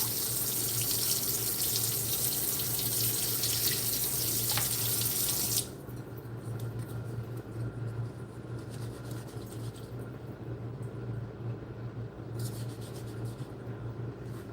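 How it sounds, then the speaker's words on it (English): Tap water runs steadily into a pot of rice as a bright, continuous hiss, then the flow cuts back to a softer stream for the rest, with no talk. "got the water on the rice"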